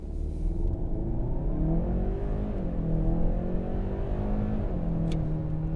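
Kia Sorento with an 8-speed dual-clutch transmission pulling hard at full throttle, its engine roar swelling steadily and climbing in pitch as it revs through a gear, heard close and loud from inside the cabin with no talking.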